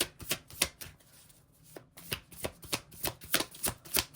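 Oracle cards being shuffled during a tarot reading, giving a quick series of crisp, sharp riffling snaps and slaps in an irregular rhythm, close and fairly quiet with a brief pause near the middle and no talking.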